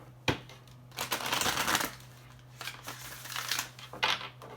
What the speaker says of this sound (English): do an extra little shuffle here.